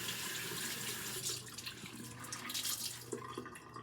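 Warm tap water runs steadily from a faucet into a bathroom sink during a morning skin-care routine, a close, continuous splashing rush with no voices.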